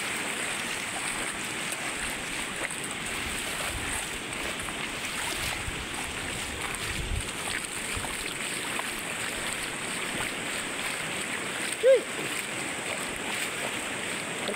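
Steady rushing floodwater of a strong river flows without a break, a broad constant roar with faint splashes and one brief high squeak near the end.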